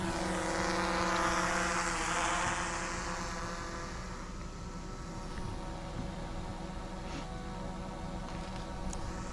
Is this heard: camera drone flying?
yes